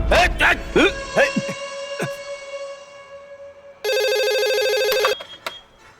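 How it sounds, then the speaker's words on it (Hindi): A telephone rings with a loud electronic warble in a dubbed Hindi action film scene, heard after sharp speech and impacts, then cut off abruptly. "तेरे लिए फोन है रमेश का।"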